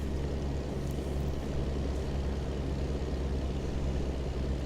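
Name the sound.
truck engine downshifting in American Truck Simulator video game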